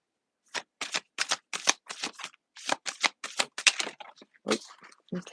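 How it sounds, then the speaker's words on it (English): Tarot cards shuffled by hand in a series of quick, crisp riffling bursts, close and fairly loud, with brief pauses between them and no talking. "I'm gonna pull one card, then we're gonna do the signs and all that stuff."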